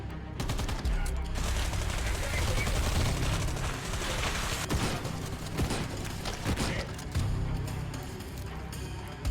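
Automatic gunfire and rapid volleys from a Far Cry video game trailer, sustained and loud throughout with dense bursts, layered over game music and effects, with some voice mixed in.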